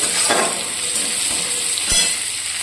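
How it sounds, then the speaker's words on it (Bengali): Ginger fries in a pan with a loud, close, bright sizzle, broken by a couple of quick stirring scrapes of a utensil against the pan. "এরপর আদাটা একটু খুব ভালো করে ভেজে নেবো"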